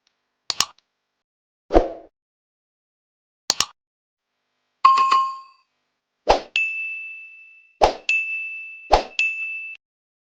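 A spoon stirs sugar into pineapple cooking in a pot over high heat, giving a handful of separate clinks and plops against the metal, some ringing on briefly, spaced irregularly and heard alone.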